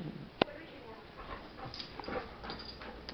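A puppy yips and whimpers softly over steady background noise, with one sharp click early on and people talking faintly nearby.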